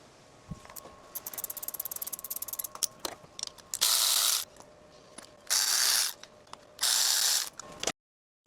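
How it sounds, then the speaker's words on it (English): A ratchet undoes the 10mm bolts on a Ford Focus boost pipe, giving a fast run of close, crisp clicks and then several louder, rasping bursts of spinning ratchet, each cut off sharply. "We're going to unbolt this boost pipe just to give ourselves a little bit more room."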